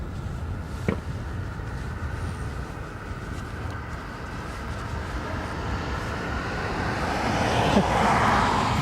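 A Ryanair airliner rolls for takeoff on runway 28 right at Dublin Airport, a broad distant engine roar that swells steadily louder toward the end, heard alone.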